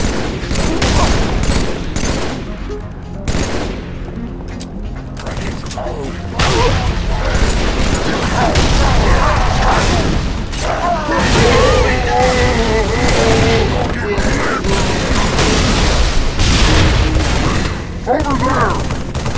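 Halo 3 combat with a grenade blast and dense, sustained gunfire, close and loud, alongside booms and mechanical clatter for the full stretch and no clear pauses.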